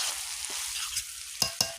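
A spatula stirs cabbage in a sizzling home kitchen pan, giving a low steady fry under soft movement, then three sharp scraping clacks of the utensil against the pan in quick succession near the end.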